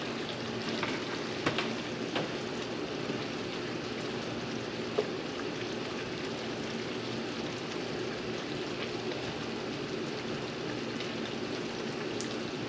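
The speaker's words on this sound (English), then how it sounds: "And then keep on stirring for a couple of minutes." Bacon jam with pepper cooking in a pan while being stirred, a steady close bubbling sizzle with faint scrapes and occasional soft ticks, no talking.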